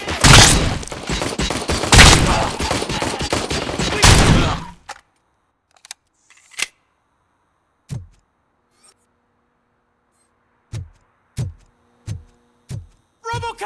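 Loud, dense automatic gunfire and blasts from RoboCop: Rogue City for about four seconds, then near silence broken by scattered sharp thuds and single shot-like impacts at irregular intervals.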